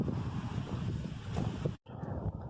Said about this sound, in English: Super windy here, guys.